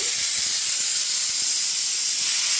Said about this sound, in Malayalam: നമ്മുടെ മീൻകറി തിളച്ചോണ്ടിരിക്കുകയാണ്